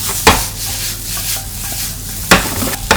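Chicken and lotus root dusted with flour stir-fried in a pan for a cream stew: a steady low sizzle and scraping, broken by a few sharp knocks of a utensil against the pan.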